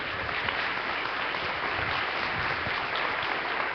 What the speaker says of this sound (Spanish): Alguien aquí déle una fuerte ofrenda de palmas a su Rey.